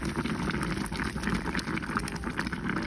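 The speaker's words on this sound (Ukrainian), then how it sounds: "Наваристе все, м'яско, бульончик кипить." Soft, continuous bubbling and popping of stew broth with meat and tomato paste simmering in a pot, close and fairly quiet, with no voices.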